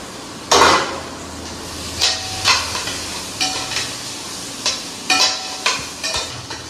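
Tomatoes and green, yellow and red capsicum sautéing in a pan for shahi paneer: a soft sizzle under about ten sharp, irregular clanks of a spatula scraping and striking the pan.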